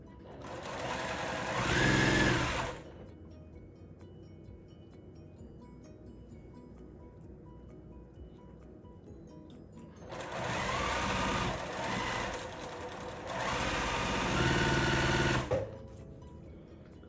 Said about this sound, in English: So now I can sew that.